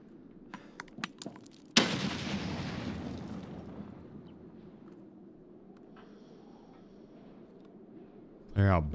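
One sharp grenade blast in Escape from Tarkov, loud and close, with a long rumbling decay, preceded by small clicks and metallic clinks, then a quiet ambient stretch and a final burst of noise.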